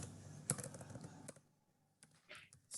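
Keys clatter on a computer keyboard as a command is entered into a terminal, a close burst of clicks in the first second and a half, then quiet with a few scattered taps and a last soft flurry near the end.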